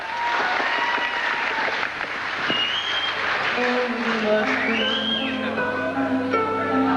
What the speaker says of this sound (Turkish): Buyurun, alkışlayın.